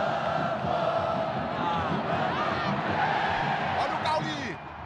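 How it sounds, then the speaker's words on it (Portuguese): Bahia supporters roar and chant in a packed stadium during the 2023 Campeonato Baiano final against Jacuipense, a loud, dense and unbroken crowd din with whistles and shouts rising near the end. "a torcida faz a festa, sobe o som da torcida tricolor"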